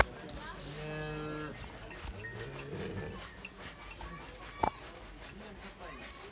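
Cattle at a cow sale in Arifwala, Pakistan, give a drawn-out, harmonic moo up close, followed by a second lower moo and fainter lowing, with a sharp knock and farmyard background noise.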